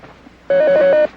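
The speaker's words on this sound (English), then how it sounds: "Phone." Telephone ringing indoors, a single loud half-second burst of bright electronic ring that stands out alone.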